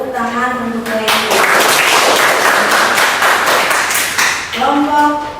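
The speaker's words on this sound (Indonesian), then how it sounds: "Tepuk tangan untuk mereka." Classroom applause for a student group that just finished presenting in an Indonesian language lesson: a steady, dense burst of clapping lasting several seconds, with voices speaking at the start and again as it fades.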